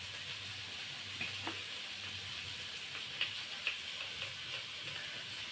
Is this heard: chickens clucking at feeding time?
no